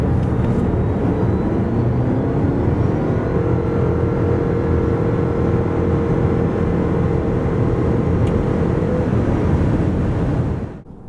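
Mitsubishi Outlander plug-in hybrid pulling hard from 90 to 140 km/h: steady road and wind roar with a thin rising motor tone, loud and continuous inside the cabin, cutting off abruptly at the end.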